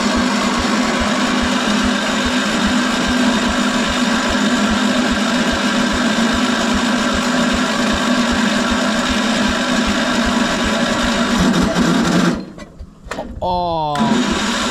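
A 1975 PowerKing tractor engine runs close and loud with a steady, fast chugging rhythm and a buzzing high tone, then briefly stumbles and dips near the end before picking back up.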